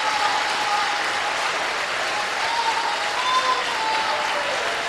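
A church congregation claps continuously for about five seconds, a broad, even wash of many hands with a faint murmur and no clear speech.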